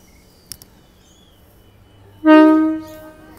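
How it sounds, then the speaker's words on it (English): A train at McIver station sounds its horn after a quiet platform stretch with a couple of small clicks, one loud, sustained tonal blast that rises abruptly and fades out after about a second. "There's the horn"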